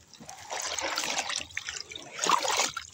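Water is poured out in a rough gushing splash during fishing in a rice field, close and uneven with a stronger surge near the end, with faint voices in the background.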